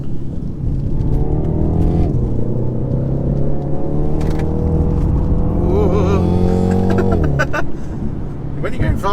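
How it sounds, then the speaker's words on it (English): A 2020 BMW X2 M35i with a 2-litre inline four-cylinder engine drives hard, its engine note climbing through the revs, dropping at a gear change, then rising again, loud and steady from inside the cabin. "It sounds like a 2-litre inline 4-cylinder engine."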